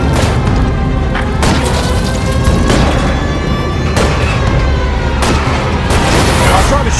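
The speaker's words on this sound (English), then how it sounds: "I'm trying to shoot out his tires." Gunfire aimed at a car's tires in the video game L.A. Noire: repeated loud sharp shots at irregular intervals over a constant roaring engine and road drone, with a voice talking in places.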